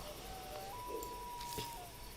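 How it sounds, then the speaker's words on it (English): A bird call from a dinosaur park-building video game, a thin whistled tone holding steady over a hushed, noisy ambient bed, with a brief faint chirp near the end. "There's a bird sound that I swear I remember from Walking with Dinosaurs."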